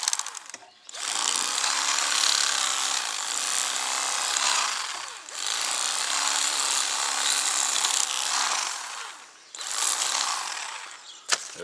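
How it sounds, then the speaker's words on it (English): A knife slices through a catfish fillet on a cutting board in long, steady rasping strokes, three sustained passes separated by brief pauses, close and fairly loud with no talking. "I'm going to fillet this right on there."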